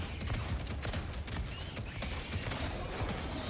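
Sustained heavy automatic gunfire from the Exo-49 Emancipator mech in Helldivers 2 fighting bugs, a dense continuous barrage of shots and mechanical clatter filling the whole stretch at steady loudness.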